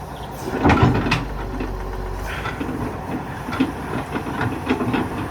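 An excavator's diesel engine revs up with a heavy low rumble and surges, its throttle cable prone to slipping, amid clanking and hissing from the machine nearby.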